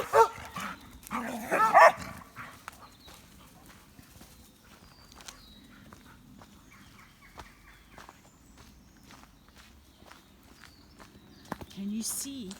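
Dogs out on an outdoor walk give a short burst of barks near the start, then soft footsteps and faint outdoor ambience follow, quiet overall.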